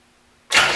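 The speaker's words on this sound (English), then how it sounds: "I should connect these two together and the engine should turn by the starter." A starter cranks the engine of a neglected 1975 Chevrolet C3 Corvette convertible, a sudden loud mechanical churn that begins halfway through and keeps going to the end.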